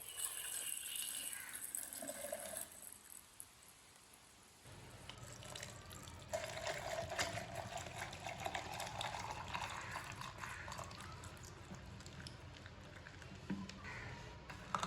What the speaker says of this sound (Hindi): अब ये पुदीने का पानी डाल लेंगे।